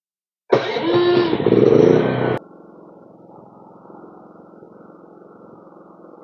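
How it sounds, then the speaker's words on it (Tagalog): An inverter silent generator starting up automatically after a power outage, with a loud burst as it cranks to life for about two seconds, then settling into a quieter steady running hum. "Ito na yung sequence, dapat mabubuhay yung ating generator."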